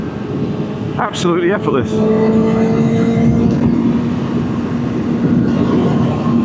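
A 2024 Kawasaki ZX-6R motorcycle engine in fifth gear with the throttle open holds a steady, droning whine under heavy wind roar. A rider speaks briefly over it.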